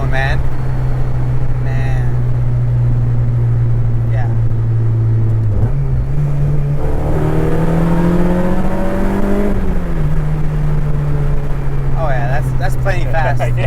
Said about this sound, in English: That's a great exhaust tone